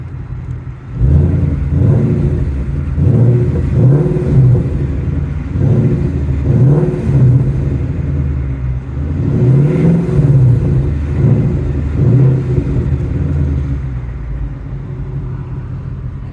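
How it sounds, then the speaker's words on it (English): Revving of a 2022 Ford Mustang GT Premium with a 5-liter V8: a loud, close engine rumble with several repeated throttle blips rising and falling over a steady idle, no talk. "let's rev this 5-liter V8 a little bit"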